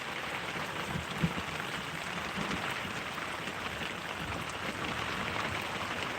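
Steady rain falling outdoors, a soft, even hiss with a faint low rumble beneath and one brief knock, moderately distant and quiet, no voices.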